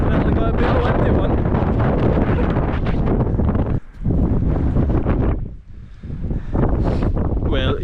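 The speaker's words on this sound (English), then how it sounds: "Definitely got to be a windy one." Strong wind roaring and buffeting the microphone almost continuously at a summit campsite during a wind and rain storm, with brief lulls before gusting back in.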